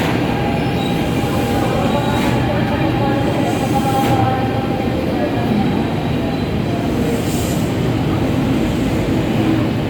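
A KRL Inka commuter train arrives at Nambo station, its continuous loud rumble carrying faint squeals and rattling clicks of wheels on rails for the whole stretch, close by and steady.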